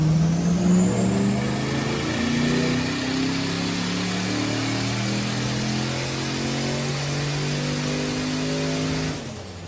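A 4.0-litre V8 engine swapped into a turbocharged Nissan 200SX revs loudly and steadily, holding a deep, rising and falling drone close by for most of the span before cutting off near the end, with no talking.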